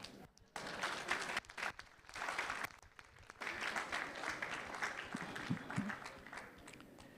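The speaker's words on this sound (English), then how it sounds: "so you see, I didn't solicit for the clapping" An audience at a World Food Safety Day commemoration and national food safety policy launch applauds in a sustained wash of clapping, swelling and dipping over several seconds with a short lull partway through.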